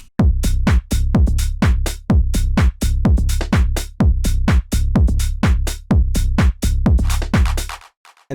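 A tech house drop of bass line and drums together: a loud, driving four-on-the-floor kick with crisp hi-hats over a pulsing side-chained bass, steady and relentless throughout.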